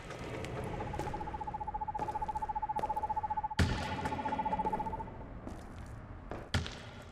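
An owl hoots in the eerie haunted-house video game Perception, a rapid run of pulsing hoots that holds steady for several seconds, then breaks off amid thuds and scattered game noises.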